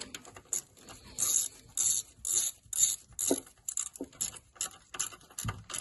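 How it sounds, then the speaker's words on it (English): A ratchet tightens timing cover bolts on a Rootes 1725 cc engine, with short bursts of rapid clicking strokes repeating close up and no talk. "Need that a little bit tighter."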